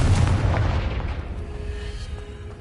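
A Confringo blasting spell in Hogwarts Legacy goes off as one heavy, booming explosion up front, its rumble fading away over the next couple of seconds.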